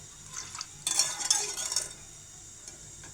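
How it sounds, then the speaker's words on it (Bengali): A spoon stirs a custard and milk mixture in a pot on the stove, scraping and clinking softly in short bursts, quiet and close with little else around. "চুলায় দিয়ে কাস্টার্ড আর দুধের মিশ্রণটাকে অনবরত নাড়তে হবে"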